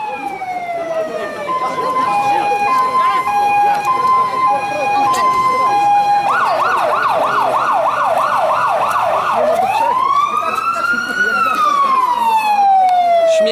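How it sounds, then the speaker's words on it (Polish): A loud fire engine siren blares nearby at an outdoor car meet, switching from a two-tone wail to a rapid yelp and back to a rising and falling wail, with crowd noise behind it. "No dobra, przyjeżdża straż pożarna."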